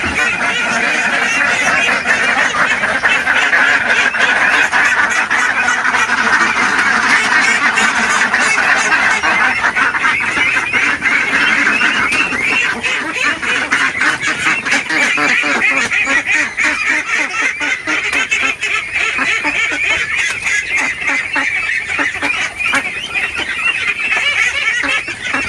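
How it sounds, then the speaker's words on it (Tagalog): A flock of ducks honks and quacks continuously at close range while being fed rice bran mix on a provincial farm, a dense overlapping chorus with no break throughout. "Ibigyan natin sa itik."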